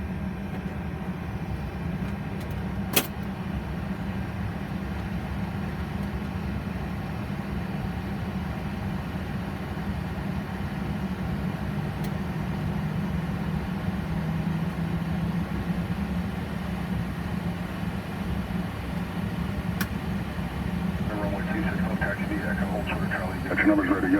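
Boeing 737 air conditioning packs run on the ground before taxi, a steady low roar and hum in the cockpit that holds throughout, with radio chatter and crew voices faintly over it.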